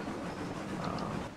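Railroads Online video game train rolls along with a steady low rumble and soft rail hiss, fairly quiet and even, no talking.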